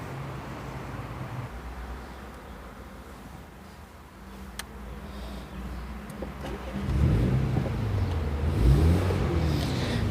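Mini John Cooper Works ALL4 Clubman engine heard from inside while driving, first a steady hum, then a rising, louder rev with gear-change swells toward the end.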